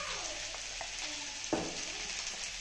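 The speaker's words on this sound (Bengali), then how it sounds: "আলুটা ভাজা হয়ে গেছে, এখন দিয়ে দেবো ধনের গুঁড়ো" Potatoes sizzle steadily as they fry in a pan, a continuous hiss broken by a few light stirring scrapes and one sharper clatter as coriander powder goes in, with no talking.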